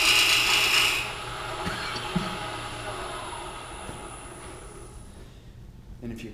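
Spindle turning tool cutting a cove in wood on a lathe, a rough scraping cut that fades as the tool flattens, with faint scrapes near the end.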